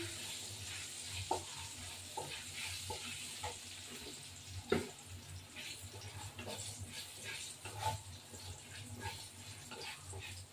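Dry chilies sizzle and crackle steadily in oil in a pan, with occasional stirring clinks and scrapes, fairly quiet and close.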